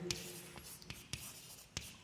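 Pen or marker writing on a board during an anatomy lesson, a few short scratchy strokes spaced irregularly, close and moderately loud over a quiet room with faint background noise.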